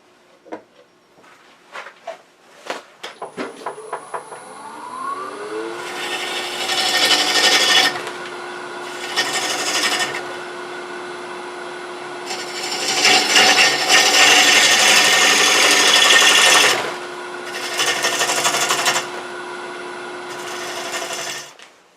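Box elder wood being shaped on a lathe while the piece spins, with bursts of loud gouge cutting rising over a steady motor hum, several separate passes broken by short pauses.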